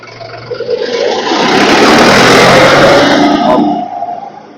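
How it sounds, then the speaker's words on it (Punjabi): A loud Sonalika 750 4x4 tractor engine, 2016 model with cabin, roars up close, swelling to a steady heavy drone for a few seconds before easing back down. "ਐ ਟਰੈਕਟਰ ਦਾ ਚਲਾਵਾ ਦੇਖੋ ਤੁਸੀਂ"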